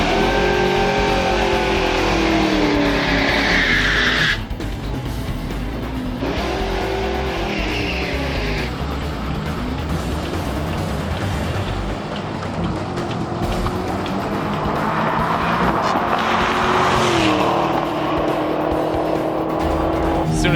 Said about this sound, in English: As soon as I topped the first gear, pulled second, it just started spinning the tires